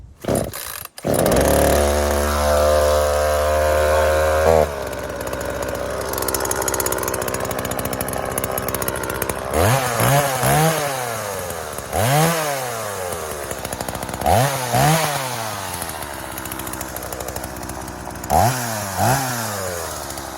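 An Oleo-Mac GSH 40 gasoline chainsaw, started with the chain brake on, sits at a loud steady idle with a rough two-stroke drone, then gives several separate rising revs that fall back to idle.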